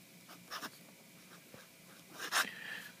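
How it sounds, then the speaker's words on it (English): The nib of a Delta Dolce Vita fountain pen writes on paper up close. Faint scratchy strokes come in short bursts, and a louder, quicker scribble arrives near the end. "If I write quick, it sounds loud."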